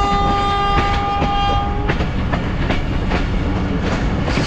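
Hazara Express passenger train running along the rail line, a loud continuous rumble of wheels and carriages with steady clattering and a sustained horn tone in the first half, close and alone.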